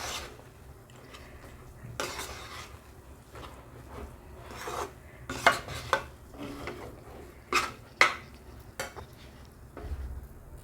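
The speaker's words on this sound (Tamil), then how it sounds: "பால் ஊற்றி நல்லா கிண்டியாச்சு" A spoon scrapes and stirs bread halwa in a pan after milk has gone in, giving irregular rasping rubs and a few sharper clinks against the metal, fairly close over a quiet background.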